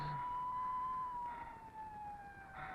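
An ambulance siren wails steadily with a long, slowly falling tone, moderately loud over low traffic rumble, with no talking.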